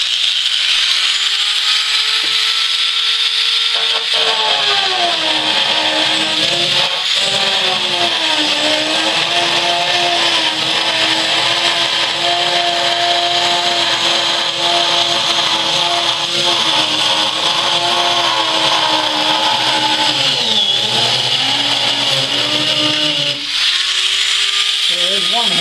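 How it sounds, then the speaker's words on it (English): A Dremel rotary tool fitted with a cutting wheel slices through the canopy of a Cessna U-3B (310) aircraft. It makes a steady, loud, high-pitched whine for about twenty seconds, with the pitch dipping briefly under load, close to the listener. "So I'm going to cut that out with a Dremel tool and a carbide cutter."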